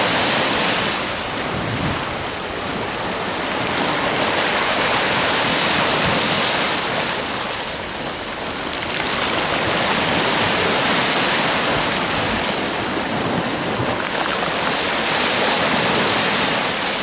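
Sea waves wash onto the shore on a sunny Italian day, a loud continuous roar that swells and recedes in slow surges, with wind buffeting the microphone.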